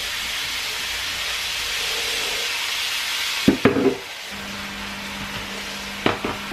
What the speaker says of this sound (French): Je vais venir ajouter un oignon.